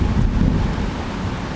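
A close, heavy rumble of thunder rolls through a Bangkok thunderstorm, loudest at the start and then easing into a low sustained growl with rain behind it, and no speech.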